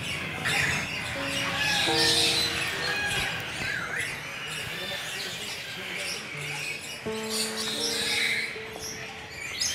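Birds squawk and chirp repeatedly against a busy, noisy outdoor background, with some tonal calls standing out.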